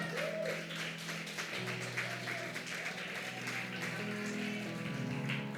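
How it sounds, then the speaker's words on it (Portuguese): A church congregation at a Brazilian miracle service claps in a steady, dense round of applause with voices and music underneath. "Aplauda ao Senhor."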